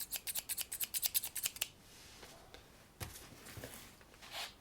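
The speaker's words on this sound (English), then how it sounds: "let's get my trusty Fiskars scissors, a little bit of ASMR to you." Fiskars scissors snip about a dozen times in a quick, even rhythm up close, then fall quiet, leaving faint rustling and a few soft handling sounds.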